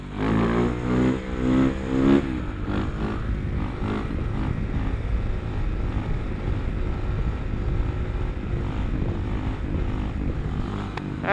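A motorcycle engine revs hard while the rider pulls a wheelie at a red light on an Athens street, a loud rising roar for about two seconds, then a steady rumbling drone.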